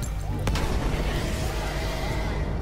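A grenade going off in the Battlefield 1 game: one sharp blast early on, then rumbling battlefield noise and distant gunfire continuing underneath.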